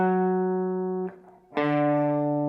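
Two sustained guitar notes ring out a major third apart, a clear harmonic tone with a short gap and a fresh pluck partway through, loud and alone.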